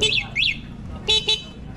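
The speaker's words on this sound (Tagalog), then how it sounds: "Dalawa pala yung busina niya, left and right." Two short electronic horn beeps in quick succession from an e-bike, fairly close, with a pair of rising chirp-like tones just before over low background noise.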